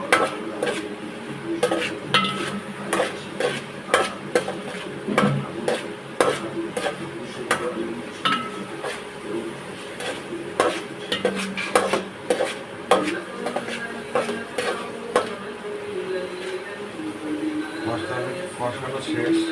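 A spoon scrapes and clatters against a pan as spices are stirred and sautéed with ilish fish, sharp repeated knocks over a low sizzle, with a voice speaking now and then.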